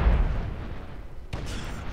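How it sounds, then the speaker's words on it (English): Explosions in the Space Engineers video game, a deep rumbling boom that decays, followed by a sharper second burst with a brighter crackle, loud and close. "There's just explosions going."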